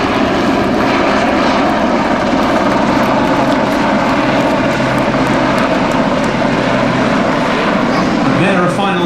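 A Fairey Swordfish propeller biplane flying at the East Fortune air show, its engine a loud, continuous droning roar that fills the whole stretch, with an announcer talking over it.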